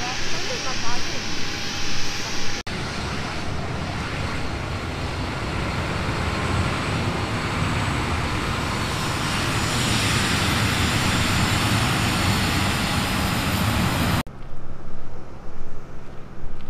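Twin Otter propeller aircraft of a small regional airline on the ground for a flight to Banda, a steady loud engine drone that holds for most of the span before cutting off sharply near the end.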